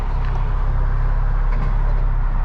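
A widebody Audi S3 rumbles with a steady, loud, deep engine drone close by, holding a constant low growl throughout without voices.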